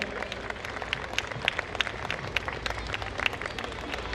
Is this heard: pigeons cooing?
no